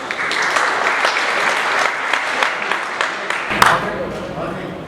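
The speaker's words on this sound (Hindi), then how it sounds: "आपकी भरपूर तालियों में" Sustained applause from a quiz-competition audience greets the next college team, dense clapping with a few sharper claps and some talk mixed in.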